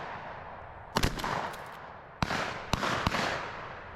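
Shotguns fire at a pheasant shoot, about five sharp bangs spaced irregularly across a few seconds, each trailing off into outdoor echo over a soft background.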